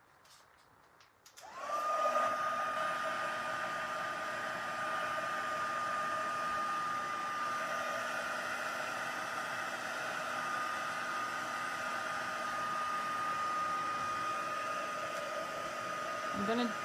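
A heat tool dries a rubbing alcohol ink background on a stamped card, its steady airy whir starting abruptly and holding loud and close, with no talk.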